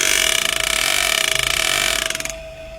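A vehicle drive shaft vibrating from unequal U-joint angles, producing a steady buzzing drone with a rapid pulsing flutter and a fixed tonal hum that cuts off abruptly near the end.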